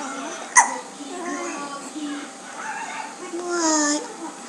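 A two-month-old baby girl hiccups with a sharp little burst near the start, amid soft infant babbling and coos close to the microphone.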